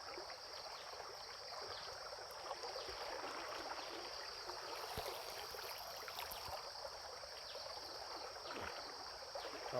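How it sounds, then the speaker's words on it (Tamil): Fast-flowing stream water in a forest flood in hill country after rain, a continuous faint rushing hiss of moving water, steady and even throughout with no voices. "நல்லா வேகமான தண்ணீர் தான் இருக்குது பாருங்கள்"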